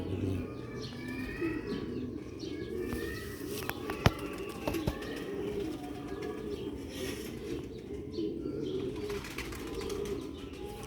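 Grey pigeons kept for sale coo softly and steadily with occasional wing flutters, heard at a low level over a background hum while people talk nearby.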